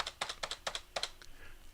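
Computer keyboard keys tapped in a quick run of about eight crisp, close clicks while deleting an XML end tag in an editor, then a couple of softer presses trailing off.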